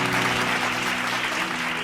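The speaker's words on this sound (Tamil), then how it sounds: "கைத்தட்டுங்க அவருக்கு" Sustained clapping from a church congregation during a Tamil faith sermon, a dense, even wash of many hands close by with a faint tonal hum underneath.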